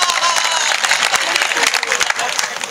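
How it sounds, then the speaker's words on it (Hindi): Audience clapping fills a poetry festival hall, a loud, dense burst of applause with some crowd noise mixed in, sustained throughout the short moment. "तालियां बजाओ"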